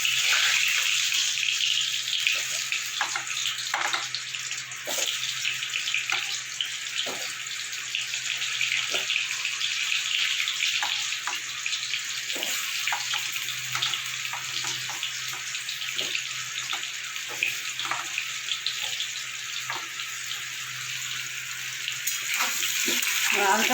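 Boiled potatoes fry in a pan of oil for a Bengali egg curry, giving a steady close sizzle with scattered small pops and crackles throughout.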